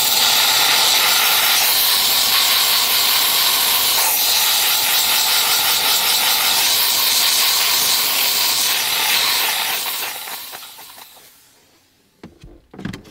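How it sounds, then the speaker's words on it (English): A car detailing steam cleaner blasts into cup holders, making a loud, continuous close hiss for about ten seconds before it fades out and a few faint knocks follow. "Where the steamer really shines is these cup holders."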